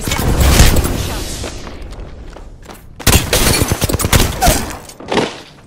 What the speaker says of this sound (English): This guy is taking shots.